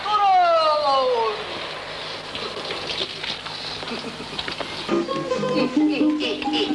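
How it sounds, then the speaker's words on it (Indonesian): Rain falls steadily outdoors where laundry hangs drying, a dense, even hiss that carries through the whole stretch, with a brief tonal sound early on and a shift in texture near the end. "Hujan dah turun."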